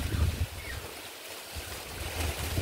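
Cold wind gusts through a white guava tree in a home garden, a steady low rumbling buffet that eases in the middle and swells again toward the end, with no one talking.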